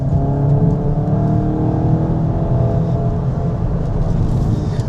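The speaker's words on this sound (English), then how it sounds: "the noise when you put your foot down is incredible" A VW Golf GTI engine revs hard under acceleration, a loud, close, sustained drone that holds steady throughout with no talk.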